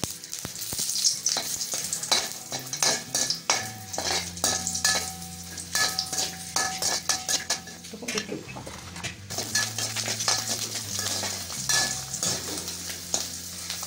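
Chili, garlic, cinnamon and asafoetida sauté in sesame oil, a steady sizzle broken by repeated scraping and clinking of a spoon stirring against the pot, with no voices.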